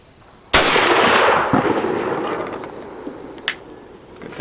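A shotgun fires a single loud, close blast of Kent Fast Steel 1 1/4 oz number 2 shot, followed by a long rolling echo and a fainter sharp crack a few seconds later.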